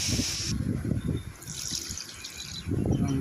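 Milk poured into a cooking pot of sautéed, salted food gurgles and splashes in close bursts, pausing briefly midway before resuming.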